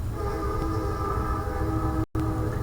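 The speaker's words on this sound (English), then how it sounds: "sorry about the train." A train passes with a loud, sustained horn blast and the heavy rumble of railcars, droning steadily throughout with a brief dropout near the end, with no one talking.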